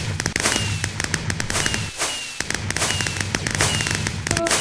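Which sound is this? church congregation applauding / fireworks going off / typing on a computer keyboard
fireworks going off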